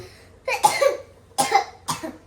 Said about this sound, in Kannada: ಏನಾಯ್ತು ಕೆಮ್ಮು